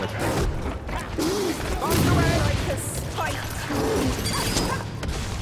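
Rapid gunfire and impacts crackle amid mechanical clanks in Warhammer: Vermintide, with a voice talking over the action.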